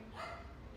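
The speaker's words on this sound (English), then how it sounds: "Sorry about my dog." An eleven-year-old dog barks once from another room, a short muffled woof heard alone at moderate level.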